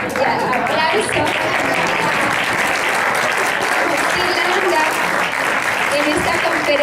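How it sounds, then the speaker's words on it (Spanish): An audience at a leadership conference in Monterrey applauds, a dense, steady wash of clapping from many hands that fills the whole stretch at a loud, even level. "aplauso"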